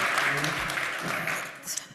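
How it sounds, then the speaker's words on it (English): An audience in Boston applauds at a marketing event, a dense, even wash of clapping from a crowd that holds steady throughout, with faint voices mixed in. "big round of applause, folks here in Boston for Tarun and Kimberly."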